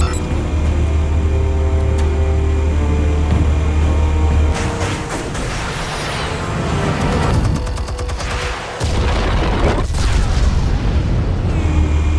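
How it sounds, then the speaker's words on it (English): Explosive blasts in the Batman: The Telltale Series game on Xbox One, heavy booming bursts and crackling gunfire-like impacts over a dense rumbling game soundscape, loud and near throughout. "Explosives armed. Fire when ready."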